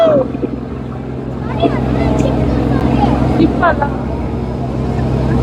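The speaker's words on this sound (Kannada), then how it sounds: "ಏನ್ ಮಾ ಇದು ಬೋಟ್" A motorboat engine drones low and steady on the crossing to St. Mary's Islands, a close continuous hum with a faint rhythmic throb, while people talk over it.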